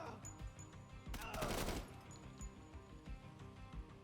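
Bursts of automatic gunfire from the tactical shooter game Door Kickers 2, with a loud rattling volley in the middle and fainter shots around it in the game's ambience.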